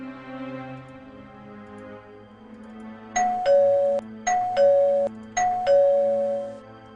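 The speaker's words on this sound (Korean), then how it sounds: "초인종이 울렸답니다." Electronic doorbell chimes sounding as a radio drama effect, three crisp two-note ding-dong rings in a row, loud and close over soft background music.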